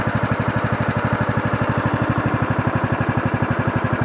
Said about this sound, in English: I like the way it idles now.